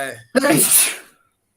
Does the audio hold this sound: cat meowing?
no